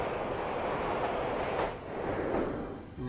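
A moving train in the Nancy Drew video game Shadow at Water's Edge gives a steady, loud rumble of rolling rail cars that swells briefly midway and keeps going throughout, with no talking.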